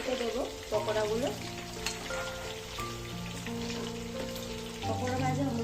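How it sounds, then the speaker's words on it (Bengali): Chicken pakoras sizzle in hot oil as they are turned, giving a dense, steady crackle with scraping stirs, under background music. "পকোড়া ভাজা হয়ে গেছে, এবার এগুলো আমি প্লেটে তুলে নেবো।"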